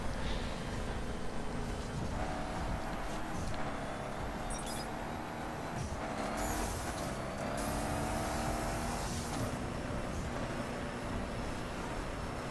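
Volkswagen Touareg with an eight-gear diesel engine driven in the racing game The Crew, a steady loud engine drone with shifting revs and gear changes throughout, no talking.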